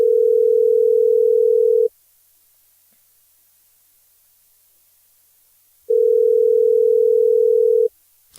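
An unanswered telephone call rings out, two long steady electronic tones about four seconds apart with silence between, loud and clean.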